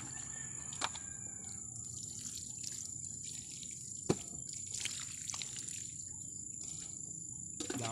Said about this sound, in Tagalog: diligyan naman natin para siguradong buhay